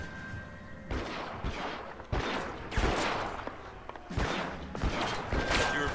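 Gunfire from a 1940s Los Angeles crime shootout in the video game L.A. Noire: a string of sharp, loud shots and bursts with broadband crashes spread over several seconds, set against a busy background of clatter and ambience.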